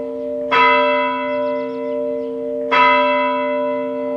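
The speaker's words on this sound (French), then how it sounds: "les cloches." A large church bell tolls twice, each deep strike ringing out and lingering with a long, humming resonance between the strokes.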